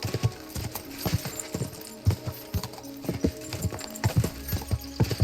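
Horse hooves clopping at a gallop in the medieval video game Kingdom Come: Deliverance II, a steady rapid thudding rhythm with a brief whinny, loud and close over faint game ambience.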